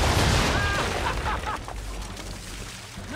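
A ship's cannons firing a broadside in the naval combat of Assassin's Creed 3: a dense, rumbling roar of overlapping booms and blasts that fills the whole stretch, with faint voices underneath.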